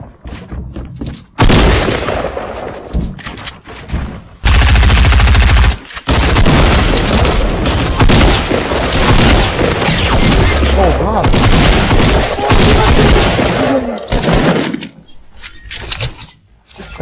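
Gunfire in the video game Fortnite, loud sustained bursts of rapid shots and booming blasts packed almost continuously across the span, with brief quieter gaps near the start and end.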